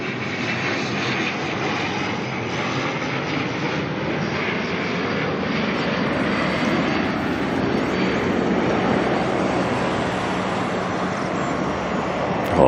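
An ATR turboprop arriving at Auckland Airport from New Plymouth, its propellers and engines droning loud and steady throughout, a broad continuous roar with no speech.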